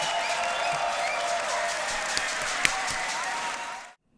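Crowd applause at a Grand Beatbox Battle World League quarterfinal, a dense, steady wash of clapping and cheering that carries on for a few seconds and then cuts off abruptly.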